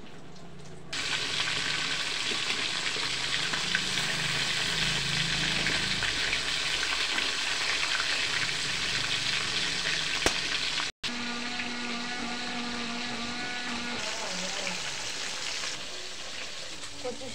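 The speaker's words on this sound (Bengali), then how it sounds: "ডালটা আমি আগে ভেজে নিচ্ছি" Lentils frying in a hot pan for dal with fish head, a dense continuous sizzle close up, briefly cut off near the middle and then resuming more steadily with some clinking.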